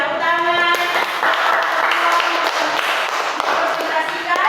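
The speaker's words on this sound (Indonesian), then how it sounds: "Ya, tepuk tangan." A classroom group claps their hands during a teaching session, and the clapping is mixed with voices and tonal sounds that run underneath it throughout.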